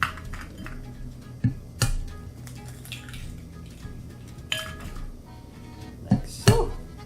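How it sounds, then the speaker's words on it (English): Eggs cracked into a bowl for crepe batter, a few sharp taps and clinks of shell against the rim, close and quiet, spaced out over several seconds with faint kitchen handling between. "So we crack the eggs into the pot."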